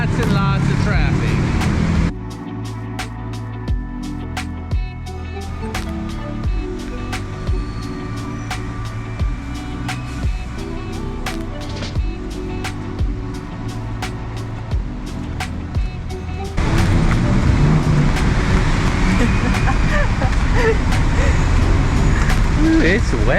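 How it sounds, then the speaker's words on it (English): Heavy traffic on a wet Bangkok street at night in the rain, a steady broadband roar of engines and tyres on wet pavement that gets louder near the end, with people talking under it. "Lots and lots of traffic."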